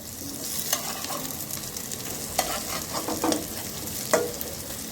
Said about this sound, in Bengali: অপর পাশটাও 4 মিনিট ধরে কীভাবে ভেজে নিচ্ছি